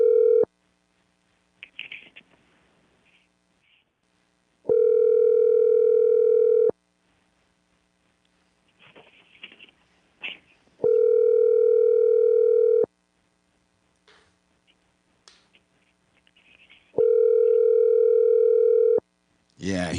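Unanswered telephone call: four long, loud ringback tones of about two seconds each, separated by roughly four-second gaps filled with faint room noise and scattered quiet sounds.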